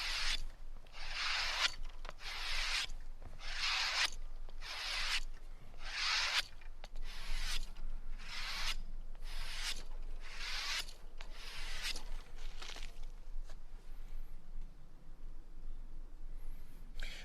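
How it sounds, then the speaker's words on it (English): A knife edge dragged backward along the inside of a leather belt while stropping at camp, giving a steady run of crisp scraping strokes, about fifteen evenly spaced rasps close by, then fading to quiet. "I'm going to use the inside of my belt, and I'm going to drag the knife so that the edge is coming the other way."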